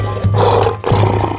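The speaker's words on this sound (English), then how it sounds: "Lion." A cartoon lion gives two loud, close roars, each about half a second long with a brief gap between them, over a steady musical backing in a children's animal animation.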